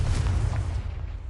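A Confringo blasting spell goes off in Hogwarts Legacy, a loud, close, booming burst with a heavy low rumble that holds steady and fades slightly over about a second, with no talking.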